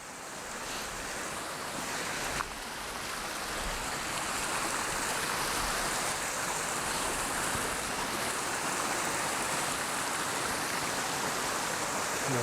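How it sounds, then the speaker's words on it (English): A mountain brook flowing on Mt Ascutney in Vermont, a steady rushing wash of water, close and continuous, with some wind buffeting the microphone and no talk. "Just following this brook up here."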